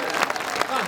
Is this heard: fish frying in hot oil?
no